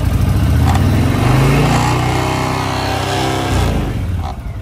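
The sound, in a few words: 2006 Honda VTX 1300 R motorcycle engine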